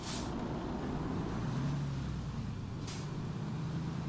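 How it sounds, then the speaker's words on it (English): A Freightliner truck in American Truck Simulator rumbles steadily up close, with two short hissing bursts of air brake release, one at the start and one near the end. "Very stereotypical Freightliner sound"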